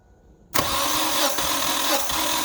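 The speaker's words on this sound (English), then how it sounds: "and then turn over the engine." A 2009 Kia Spectra engine cranks over during a cylinder compression test, a sudden loud start after a quiet moment, then a steady, continuous churning drone that holds for about two seconds with no talk.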